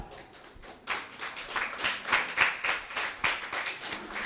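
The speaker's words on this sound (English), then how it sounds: "I want the applause to start going before I bring her up" Audience at a book launch clapping, starting as scattered claps and building into fuller applause with sharp individual hand claps, close and moderately loud, no speech.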